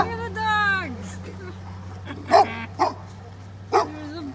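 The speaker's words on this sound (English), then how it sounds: "Look at the dogs." A group of matching dogs outdoors, a whining, yelping cry at the start followed by three sharp, separate barks spaced apart over a low steady engine hum.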